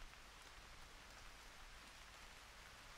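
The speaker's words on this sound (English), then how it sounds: "Oh, it's raining." Steady rain patters and hisses evenly throughout in the video game Arma 3, faint and continuous, with no voices.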